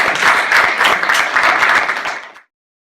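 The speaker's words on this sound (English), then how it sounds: "round of applause for Robust NIRO" Applause greets the Robot DE NIRO demonstration, a dense burst of clapping from a small group that holds steady for about two seconds and then cuts off abruptly.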